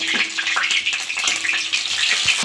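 Cabbage pieces sizzle in mustard oil in a wok, a continuous close hiss with scattered pops and crackles, steady and fairly loud, with no talking.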